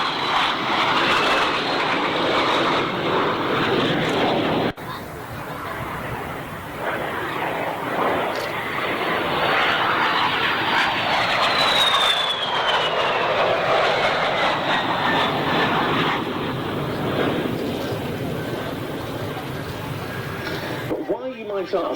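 MiG-15 BIS and de Havilland Vampire jets flying together at the Duxford Summer Air Show, a continuous roaring engine rumble that swells and fades as they pass, with commentary spoken over it throughout.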